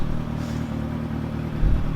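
A motorcycle with a Graves exhaust idles steadily in a home garage, a loud, close, low rumbling drone with a slight swell in level near the end.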